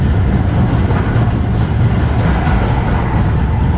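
Steady rumble and clatter of a roller coaster train running along its track at the Fraispertuis City amusement park, loud and continuous throughout with no break.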